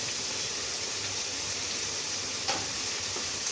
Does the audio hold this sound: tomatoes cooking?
yes